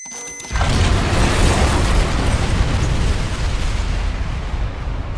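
A loud explosion in the zombie video game Dead Rising Deluxe Remaster bursts in after a short quiet moment, then rolls on as a sustained, heavy roar that slowly fades.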